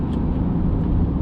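Ford Ranger Wildtrak 4x4 double cab TDCi diesel engine running through gear changes, a steady close, loud low rumble without distinct shifts standing out.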